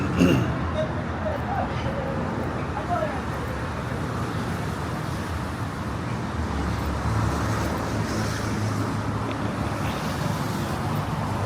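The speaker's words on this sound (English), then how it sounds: "rush hour right now, so there's a lot of traffic out, and it is quite loud" Dense, continuous roar of rush hour street traffic in Medellín, cars passing steadily nearby with a constant loud rumble and no breaks.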